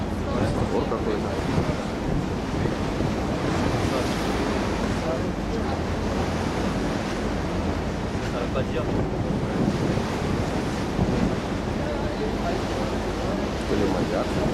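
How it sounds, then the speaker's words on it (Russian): Continuous surf and choppy waves of the Barents Sea slosh around a boat on a Norwegian whale safari, with strong gusty wind noise roaring over the microphone and faint voices in the background. "Ну, волна идет, смотри, на море, видишь?"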